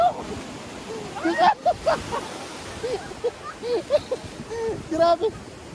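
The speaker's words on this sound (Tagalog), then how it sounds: "ang lakas ng alon" Strong ocean waves surge and crash in a broad roar of surf, with excited voices exclaiming loudly over the water throughout.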